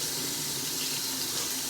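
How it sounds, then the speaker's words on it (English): Steady stream of tap water running into a sink as breast pump parts are rinsed under it, a constant close splashing hiss with no talk. "Just run water through it."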